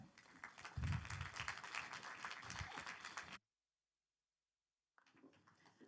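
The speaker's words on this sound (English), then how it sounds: "Give them both a big round of applause" Audience applause at a tech festival talk, a burst of clapping for about three seconds that cuts to silence, then resumes faintly near the end.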